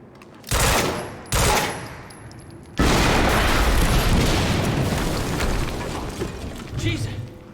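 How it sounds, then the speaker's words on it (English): Loud explosions and gunfire erupt in the video game Quantum Break: two sharp blasts come first, then a sustained roar of heavy gunfire and rumbling detonations fills the rest, with a voice underneath. "HQ, we just heard an explosion near the harvesting perimeter."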